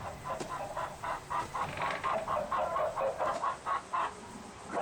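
Video game chickens cluck in a busy, rhythmic series of short calls, steady and fairly close against a low background hum.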